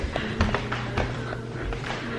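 A dog running across an indoor floor to her bed, a quick patter of light taps and thumps close by over a low room hum.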